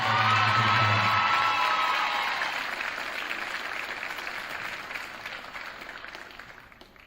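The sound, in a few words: audience applause at school awards ceremony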